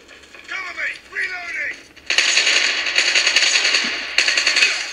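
Call of Duty Mobile gunfire plays as a dense, sustained burst of rapid shots for about three seconds, briefly pausing near the end before resuming, following a short stretch of talk at the start.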